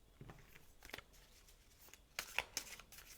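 Tarot cards shuffled and drawn, soft papery riffles and flicks close by, a few scattered swishes followed by a brighter cluster of snaps near the end, quiet overall.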